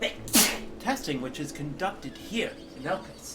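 A single sharp sneeze bursts out near the start, followed by a voice speaking in a measured tone through the rest of the moment.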